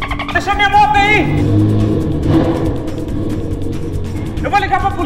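Yamaha XJ6 motorcycle engine revving loudly and rumbling steadily as it rides off, with people shouting over it at the start and end.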